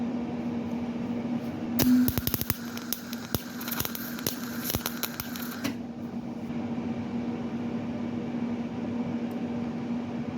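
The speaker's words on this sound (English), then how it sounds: "Flip it over and weld the other side." Welding the other side of an Enfield 8000 microcar door check strap: a few seconds of dense crackling and sharp pops over a steady electrical hum, stopping abruptly while the hum continues.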